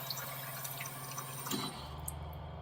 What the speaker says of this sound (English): I'm just going to flush the whole tank through before we start using it officially